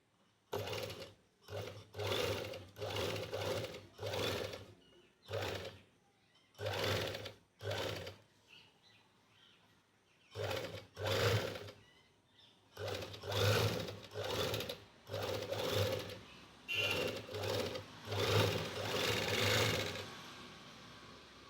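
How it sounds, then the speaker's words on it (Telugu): A Sheila overlock sewing machine runs in repeated bursts, stitching and trimming fabric edges, its steady whirring motor stopping and restarting in a loud, close rhythm through the demonstration. "ఇది కూడా షేలా మిషనేనండి. ఇప్పుడు దీన్ని డెమో చూపిస్తాను."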